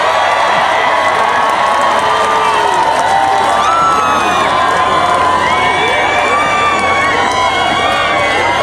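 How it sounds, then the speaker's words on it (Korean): A dense festival crowd at the Samgilpo rockfish festival cheers, whoops and claps as the singer is introduced, a loud, continuous roar of voices and shouts with applause mixed underneath. "박수 부탁드립니다"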